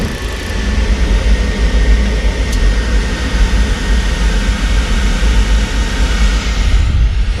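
A gas furnace burner fires up after a heat exchanger replacement, giving a steady, loud, broadband roar with a low rumble that holds evenly throughout.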